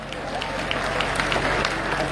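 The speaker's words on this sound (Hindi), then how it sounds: "तालियां कम है हालांकि आपकी" Scattered applause from a comedy-poetry audience at a Hindi satirical hasya vyangya recital, a steady patter of clapping lasting about two seconds with a faint murmur mixed in.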